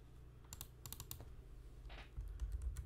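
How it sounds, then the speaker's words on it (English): Keys on a computer keyboard clatter in a few short bursts of quick taps, close but quiet, over a low background hum that swells slightly near the end. "Matter of fact, we just type it in."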